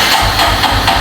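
A homemade motorcycle engine running just after a first start, giving a loud, steady low chugging with a regular pulsing beat and a hissy upper layer throughout.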